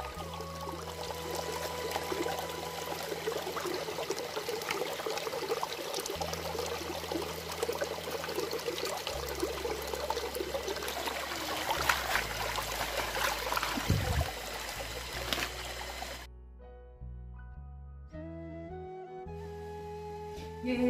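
Water flowing steadily into a village water source, a continuous trickling, pouring stream heard close, with a low hum beneath; the flow cuts off near the end, leaving faint tonal sounds.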